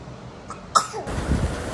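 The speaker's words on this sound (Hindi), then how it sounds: "देख लो अब दही खाने के बाद इसको छींके आ गई ना" A child sneezes once after eating yogurt (dahi), a sharp abrupt burst near the microphone, followed by shuffling household noise.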